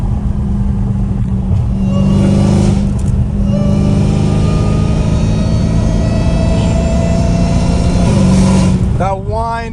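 A Dodge Hellcat Redeye revs hard with a loud, sustained supercharger whine over the engine roar. The pitch rises and holds, then sweeps down sharply near the end, while people talk and exclaim over it.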